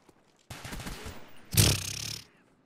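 Pistol fire from a split-screen shooter video game: a sustained burst of shots starting about half a second in, swelling into a louder, denser volley near the middle before cutting off, with no talk over it.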